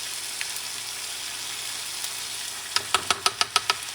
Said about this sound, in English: So I'm going to add a grated tomato. I grated this tomato. I have some tomato paste.